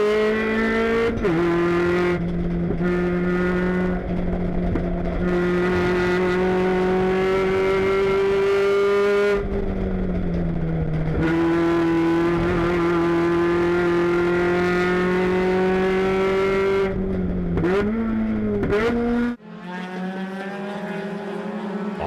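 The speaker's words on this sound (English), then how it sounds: "Let's listen to these motors." Mazda MX-5 Cup race car engines roar continuously and loudly at Laguna Seca, pitch rising and falling as cars accelerate and shift, with a brief drop near the end.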